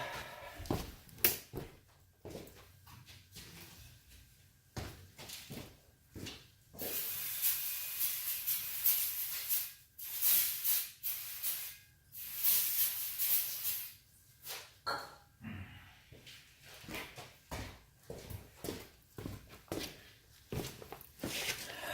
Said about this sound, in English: Went ahead and hit with some brake clean away from the heater.